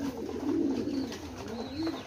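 Ornamental pigeons coo in low, rolling, throaty phrases close by, one steady murmuring call swelling and dipping without any talk over it.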